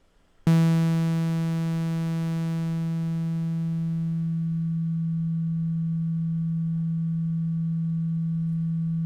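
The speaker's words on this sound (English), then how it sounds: "The slave waveform becomes a sine wave again." A synthesizer's hard-synced slave oscillator, tuned to match its master, settles into a steady sine-like tone. Its bright harmonics fade away over the first few seconds, leaving a pure, sustained hum with no talk.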